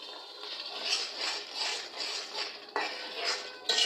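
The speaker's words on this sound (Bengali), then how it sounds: "এখন ভালো করে মশলাটা কষিয়ে নিব।" A spatula scrapes and stirs masala with a little added water in a pan, rhythmic metallic scraping strokes repeating up close with a faint sizzle beneath.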